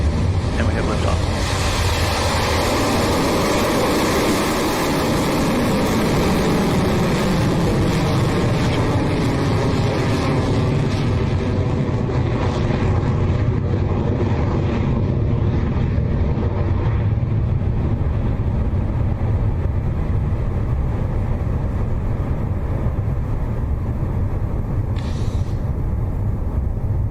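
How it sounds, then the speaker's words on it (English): Rocket Lab Electron rocket lifting off from Launch Complex 1, a steady, loud broadband roar that stays dense and sustained throughout, with a voice speaking over it. "Our 45th Electron is now in the air, having successfully lifted off the pad at Launch Complex 1."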